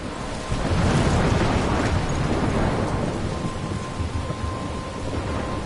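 A loud thunderstorm rages in the video game Life Is Strange, with heavy rain hissing steadily and deep thunder rumbling up near the start before settling into a dense, continuous downpour.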